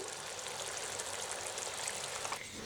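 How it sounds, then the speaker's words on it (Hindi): Half a cup of water pours into cooking gravy in a steady, soft, continuous trickle, fairly quiet and close, with no voices. "आधा कप पानी ऐड कर रही हूँ।"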